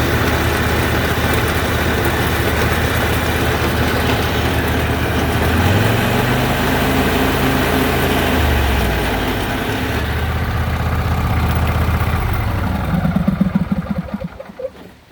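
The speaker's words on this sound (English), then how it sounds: "as soon as I engage the drive belt you get this noise." A Craftsman YT4000 riding mower runs steadily up close, and a droning whine rises and then falls when the drive belt engages, with the engine continuing underneath.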